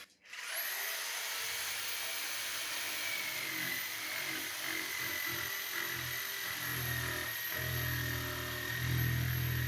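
A dropped, worn jigsaw runs steadily while cutting wood for a serving platter, a high, continuous whine with a thinner droning hum beneath, loud and close throughout, with no voices.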